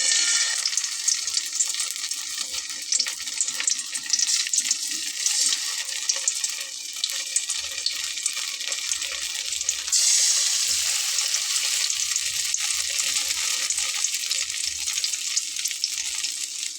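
Stuffed eggplant fries in hot oil in a wok over a low flame, giving a continuous bright sizzle with occasional stirring, steady and close throughout.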